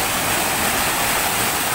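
Rushing water of a forest stream on a trek near Kodaikanal, a steady, loud, broadband roar of flowing water close by with no break.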